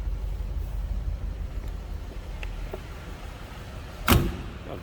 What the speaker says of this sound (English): How nicely that door closes.